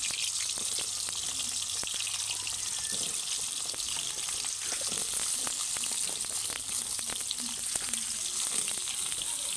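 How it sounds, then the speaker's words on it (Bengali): Potatoes frying in hot oil in a pan give a steady, dense hissing sizzle that runs throughout with small crackles, close and even, with no voices. "এখন আমি আলু ফ্রাই করার জন্য আলু দিয়ে দিলাম।"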